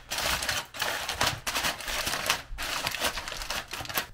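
Loud, close crinkling of aluminium foil being pressed and sealed over a pot roast dish, in several dense rustling bursts separated by brief gaps.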